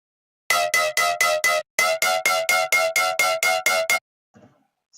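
Brostep bass synth patch built in the iOZ app, lightly compressed, firing as a rapid series of short, buzzy, harmonically dense stabs in two rhythmic bursts, loud and alone, then cutting off abruptly.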